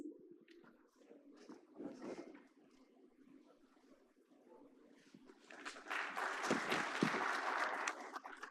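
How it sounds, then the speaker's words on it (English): Audience at the SEIC2025 conference grand opening with Nitin Gadkari bursts into loud applause and cheering in the closing seconds, following a quieter stretch of hall noise and murmuring. "I think this is the first round of cheer for the morning"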